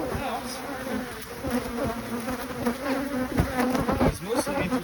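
Bees from a home beehive in a garden buzz close by, several insects whirring and swooping past in overlapping passes with no voices.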